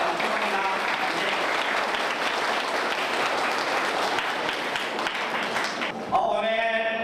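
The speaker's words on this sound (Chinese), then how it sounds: "我们热烈掌声" Warm audience applause closes a spring ancestral memorial ceremony, steady dense clapping for about six seconds before it gives way to a tonal sound at the end.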